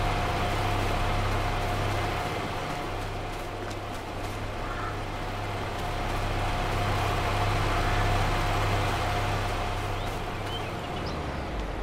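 A tractor engine running in Farming Simulator 22, a steady low idling drone with a faint tonal hum, continuous and unchanging at moderate level throughout.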